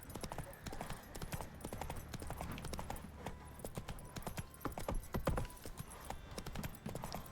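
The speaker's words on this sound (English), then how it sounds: "Oh, I can call my horse in here." Horse hooves galloping in The Witcher 3, a steady, fairly quiet clip-clop rhythm that runs the whole time with no talk over it.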